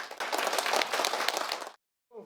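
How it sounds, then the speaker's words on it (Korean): Applause breaking out in a courtroom after an acquittal verdict at a retrial, a short burst of many hands clapping fairly close and dense before cutting off abruptly, followed by a brief voice. "법정 안에선 박수가 터져나왔고"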